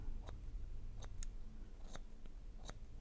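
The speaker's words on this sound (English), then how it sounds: "Just using the tips of my scissors." Crisp, brief snips of hair-cutting scissors working scissor over comb around the ear, four or five separate close cuts spaced unevenly over a low background hum.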